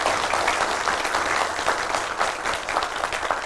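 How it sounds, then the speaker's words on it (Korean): Steady applause from a seated staff audience at a monthly staff assembly of the Jeollabuk-do Office of Education fills the room, with a sustained crowd of hands clapping evenly throughout and no talk. "박수 한번 쳐드리십시오"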